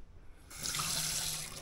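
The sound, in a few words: water running from galley tap on Bali 4.2 catamaran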